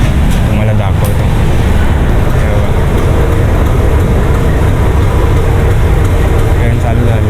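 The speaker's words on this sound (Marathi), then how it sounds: "ट्रेन चालू झालेली आहे आपल्याकडे" A train pulls away from a station on a route toward Thane, a loud, steady, close rumble of wheels and motion filling the whole stretch without letting up.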